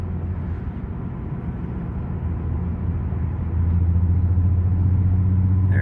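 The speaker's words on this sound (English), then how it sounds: "you can just kind of tell it's not running on all cylinders properly" A car engine is misfiring and not running on all cylinders. It idles with a rough, uneven low rumble that grows slightly louder and heavier partway through.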